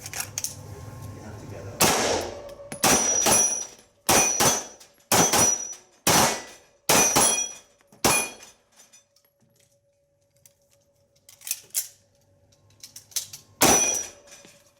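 Gunshots at a shooting competition strike targets in a rapid string of sharp, loud reports, some coming in quick pairs, with short pauses between groups and faint voices in the background.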